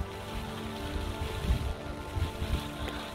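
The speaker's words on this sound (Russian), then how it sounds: "Ветер опять поднялся, зараза." Outdoor wind gusts buffet the microphone near rocky shoreline water, a low rumbling roar with a few stronger thumping puffs, fairly faint and steady with no voices.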